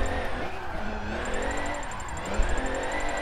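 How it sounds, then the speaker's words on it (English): Forza Motorsport 7 drift run heard from the driver's seat: a steady, loud engine drone holding high revs with slight pitch swells and a faint tire hiss throughout. "This car does sound sick in first person"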